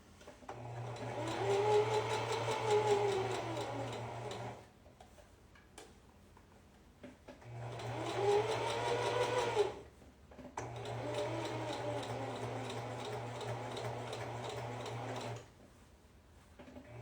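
A sewing machine top stitching runs in three steady bursts of fast mechanical whirring and ticking, each lasting a few seconds, with brief quiet pauses between them.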